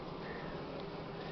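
Honeybees buzz around an open hive during a beekeeping inspection, a steady dense drone that stays close and constant with no talk.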